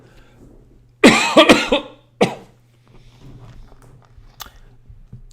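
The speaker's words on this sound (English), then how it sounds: "have had a cough for several days now." A man with a lingering cough coughs hard in a short burst of several harsh coughs, then once more a moment later, in a quiet indoor room with a low steady hum.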